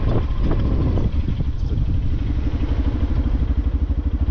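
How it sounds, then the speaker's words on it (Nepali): A new Yamaha FZS v3 motorcycle is ridden on a hill road, its engine thrumming steadily with pulsing exhaust beats and some wind buffeting, close and fairly loud. "यहाँ नयाँ बाइक चलाउँदै"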